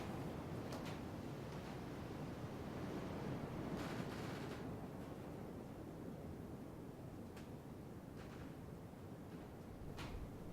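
A slight breeze moves through the wooden rafters of a shed, a steady broadband wash of air with a few faint creaks and knocks scattered throughout, continuous and fairly quiet with no voices.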